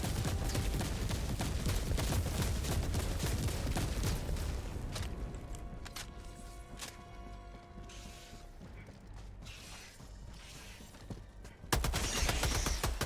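Orbital barrage strikes in Helldivers pound the ground in a dense, loud volley of rapid booms, then thin out into ringing metallic clanks before a final heavy blast, with no talking.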